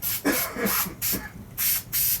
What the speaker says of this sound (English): I'm gonna spray a little bit off to the side because the spout might be stuck